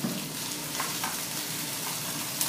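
A pot roast sears in a hot pan, producing a steady, close, even hiss of sizzling fat with a faint clink near the end.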